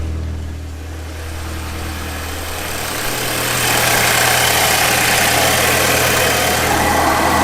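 A Volkswagen Golf GTI with fresh performance mods idles steadily, a close, loud low rumble that thickens and grows slightly louder partway through, with no talk over it.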